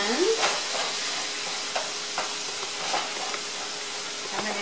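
Lamb pieces browning in a hot pan for a Moroccan stew, giving a steady close sizzle with occasional stirring knocks and scrapes and no voices.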